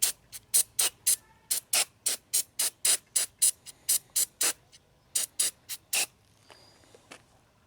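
A series of sharp aerosol bursts of cleaner sprayed onto an aluminum engine cylinder head, about eighteen short hisses in a steady rhythm with brief gaps, close and fairly loud, no talking.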